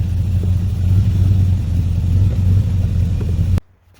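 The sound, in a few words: engine of a 1963 Chevrolet Impala running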